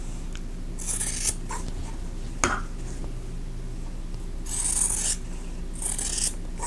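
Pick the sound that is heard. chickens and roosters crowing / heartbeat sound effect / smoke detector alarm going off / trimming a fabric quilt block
trimming a fabric quilt block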